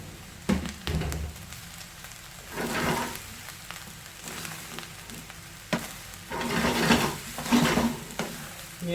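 Egg fried rice with vegetables is stir-fried in a frying pan, with soft sizzling and bursts of scraping and tossing that come and go at a moderate, quiet level.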